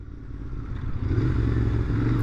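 A 2021 Royal Enfield Interceptor 650 motorcycle gives a loud, low engine drone heard close while riding. The pitch climbs slightly as it accelerates, and wind rushes steadily underneath.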